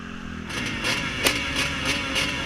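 Several motocross bikes launch together at the start of a race at Culham MX Park, a sudden loud swell of engines revving and pulsing close by, with rising and falling revs.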